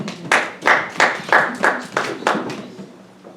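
A church congregation claps together after a Bible reading in a short run of about eight steady rhythmic claps that slow and fade at the end.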